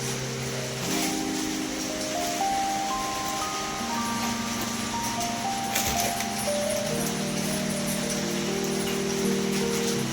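Heavy monsoon rain keeps up a steady, dense hiss throughout, partly masked by melodic background music playing over it.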